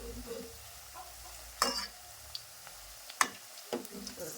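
Onion pakoda fritters fry in hot oil with a soft, steady sizzle as they are turned one by one, joined by a few sharp spoon clicks against the pan.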